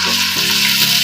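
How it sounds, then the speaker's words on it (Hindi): Potato masala with turmeric, chili, salt and ginger frying in a pan, a brief, steady, close sizzle with a faint stir and no voices. "इसको अब हमें अच्छे से भूनना है।"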